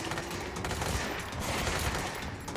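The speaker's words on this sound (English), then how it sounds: "Hey, stop shooting friends." Gunfire in the video game Control, a dense, continuous rattle of shots and impacts filling the whole stretch at steady loudness.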